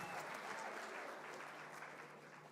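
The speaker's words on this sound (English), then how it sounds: "Round of applause," Sustained applause rises from the crowd at a youth awards ceremony, a dense wash of clapping that holds steady and then slowly fades, quiet and distant.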